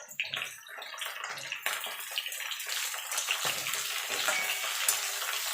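Eggplant and ridge gourd hit hot oil in a pan with potato and pumpkin already frying, giving a loud, steady sizzle with bursts of crackle and a few utensil scrapes.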